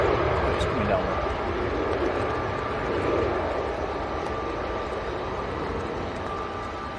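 Airliner, a TUI flight from Kefalonia, coming in to land at Manchester Airport in windy weather, a steady broadband engine roar holding for several seconds with wind noise, a voice faintly talking over it.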